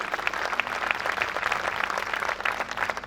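An audience at a Hindi comic poetry gathering claps together in a steady, dense burst of applause that holds evenly throughout, with no voices on top.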